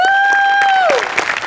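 A studio audience applauds at a Marathi comedy show, a loud burst of clapping and crowd noise under a bright, sustained tone that slides downward partway through.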